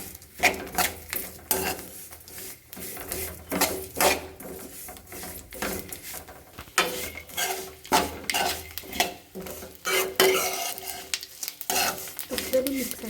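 Shaved khova is stirred in ghee in a metal pan for payasa: irregular, close clanks and scrapes of a spoon against the pan over a light sizzle.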